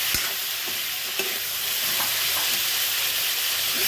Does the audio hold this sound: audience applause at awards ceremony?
no